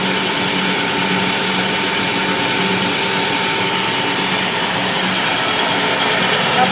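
Krisbow band saw just switched on, running with a steady, loud mechanical hum and whine that holds unchanged throughout, with no talk over it.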